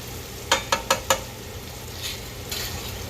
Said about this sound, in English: I'm gonna go ahead and stir this back here, and I'm gonna add my garlic to this right now